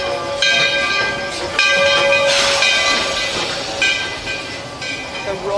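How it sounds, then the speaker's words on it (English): A steam train pulls into the Magic Kingdom station at Disney World with loud hissing steam and sustained whistle-like tones, close and busy, with faint voices of a crowd underneath. "Our train is coming right in."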